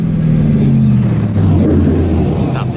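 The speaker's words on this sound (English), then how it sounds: "Straight through exhaust." Formula 1 car with a straight-through exhaust droning past, a loud sustained engine tone that slowly drops in pitch over a constant roar.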